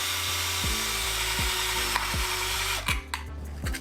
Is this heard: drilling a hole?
yes